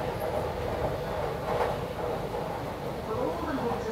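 A Kochi metro train rumbles steadily at the station, a continuous loud rail drone with a faint swell midway, overlaid by speech and announcements.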